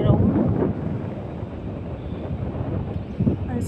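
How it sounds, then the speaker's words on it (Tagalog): Strong wind at a beach roars and buffets against the microphone in a steady, low rumble, with a few louder gusts near the end. "Oh, ang lakas ng hangin guys."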